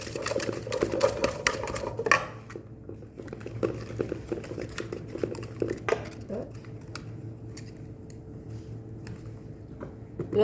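Almond cream stirred in a bowl, a steady close scraping and squishing of the spoon against the side with a soft continuous hum behind it, moderately loud throughout.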